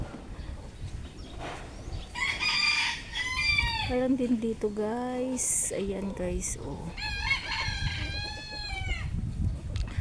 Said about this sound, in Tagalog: Meron din ditong mga manok na bantam na maliliit.